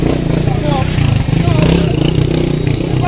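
A loud, close motorbike engine runs with a steady throbbing drone and some rattling clatter, and a voice is heard over it.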